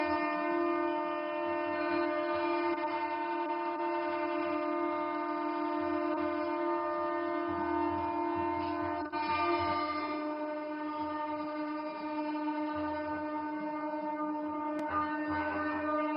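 Amrit Bharat Express trains sound a long, steady horn blast as they depart at a flag-off ceremony in West Bengal, the tone holding loud and continuous throughout.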